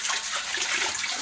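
Water pouring into a fish pond holding juvenile catfish, a short, steady rushing splash close by with no voices.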